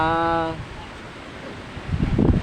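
Strong typhoon wind roars as a constant broadband rush, with a brief tonal voice-like sound at the start and a louder gusty rumble buffeting near the end.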